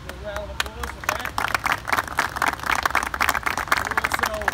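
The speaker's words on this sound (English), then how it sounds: "Give a round of applause for that." Audience at a police union rally clapping, a brisk patter of many hands that builds and holds steady, close and fairly loud, with voices mixed in underneath.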